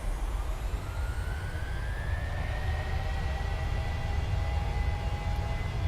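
Airliner jet engines spooling up to takeoff power in Microsoft Flight Simulator, a steady loud roar with rising whining tones that climb and hold across the whole stretch, no voices.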